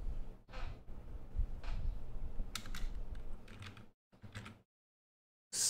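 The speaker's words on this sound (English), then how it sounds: "Go to search bar and type Crash Candy." Quick bursts of typing on a computer keyboard into a search bar, a few clusters of light clicky keystrokes separated by short pauses, close and fairly quiet in a silent room.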